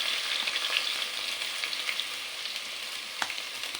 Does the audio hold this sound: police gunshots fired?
no